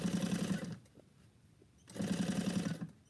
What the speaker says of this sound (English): sitting Saturday or Sunday afternoon on a sewing machine?